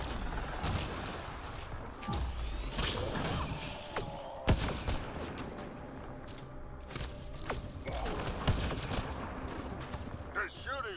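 Gunfire rattles through a Mass Effect Andromeda battle in scattered sharp cracks and bursts against a busy backdrop of movement and clatter, with voices talking at times.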